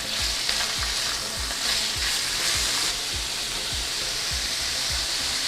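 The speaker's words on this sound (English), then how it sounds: "And then we're going to start stir fry." Vegetables stir-fry over high heat in a loud, continuous sizzle, with a steady rhythm of spatula scrapes and tosses thumping against the pan roughly twice a second, no voices.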